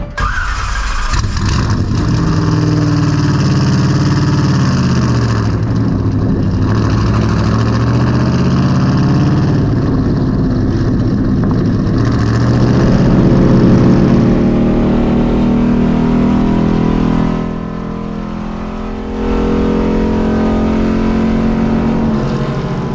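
A 1978 Monte Carlo race car engine, set at Rockingham Speedway, starts and then runs loud and close, a steady rumbling idle broken by rising and falling revs, with no talking over it.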